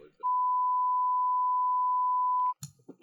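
A single steady censor bleep tone holds for about two seconds, loud and clean, cutting in between bits of conversational talk.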